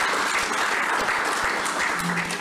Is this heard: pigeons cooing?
no